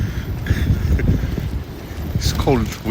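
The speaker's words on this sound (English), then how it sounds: "It's cold, windy, wet." Blustery wind on a cold, wet day in London buffets the microphone in rough, loud gusts, with a voice briefly speaking near the end.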